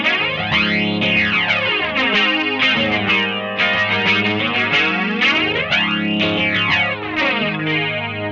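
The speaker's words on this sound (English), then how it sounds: "it's just a flanger." A Gibson Firebird X electric guitar runs through a flanger preset and plays a dense, continuous passage. A sweeping, whooshing comb-filter swirl moves steadily through the tone.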